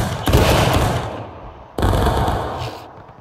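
Two loud, crackling volleys of Civil War-era musket fire ring out in War of Rights, each a dense burst of many rifles firing at once that decays into rumbling echo, with a short pause between them.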